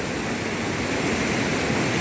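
Narmada river water cascading down a waterfall, a loud, steady, dense roar of churning white water with no break, close by and alone.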